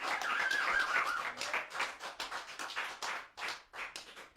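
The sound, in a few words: audience applause for the keyboard player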